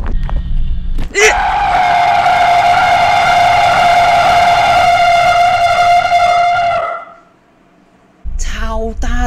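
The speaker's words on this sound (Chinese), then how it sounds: "不要害怕他的叫声" A monster in a realistic horror shooter game lets out a long, loud, piercing scream that holds steady for several seconds before cutting to near silence, with harsh game noise starting up again afterward.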